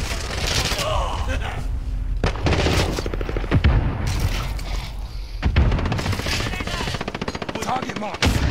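Rapid automatic gunfire and explosions from a precision airstrike in the video game Call of Duty: Modern Warfare, loud and dense throughout, with bursts of shooting and booms layered over game voices.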